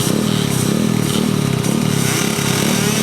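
Racing motorcycles tear along a grasstrack straight, their engines roaring loud and steady throughout with a rough, buzzing drone that barely varies.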